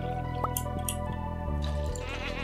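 Goats bleating on a Stardew Valley farm, a couple of short cartoonish calls layered over the game's constant tonal music.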